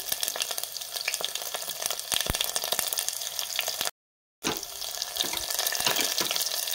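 Garlic frying in oil in a pan on a gas stove turned low, a steady close sizzle and crackle running throughout, broken once by a short gap in the middle.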